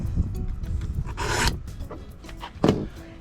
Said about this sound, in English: So you just want to get your knives good and sharp.